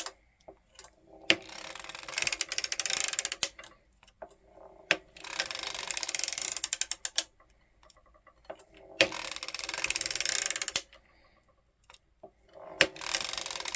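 Hand-cranked circular sock knitting machine clattering through repeated passes in bursts of a few seconds each, with rapid ticking and ratcheting and short quiet gaps between passes.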